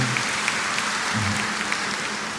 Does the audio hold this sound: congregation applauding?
yes